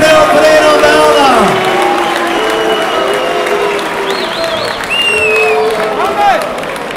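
Crowd at an amateur MMA event claps and cheers after a fight ends in a draw, loud applause with whoops and shouts, while an announcer's voice rings over the hall.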